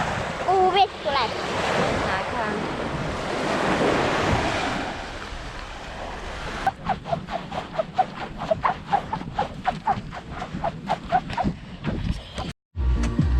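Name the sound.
waves washing onto sandy beach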